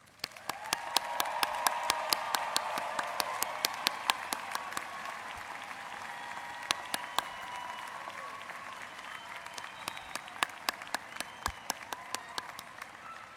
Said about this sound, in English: join me in a big round of applause for our graduates